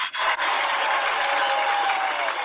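A show's live audience roars in a dense, steady wash of crowd noise, like sustained cheering and clapping, loud and unbroken for a couple of seconds with a brief dip near the start.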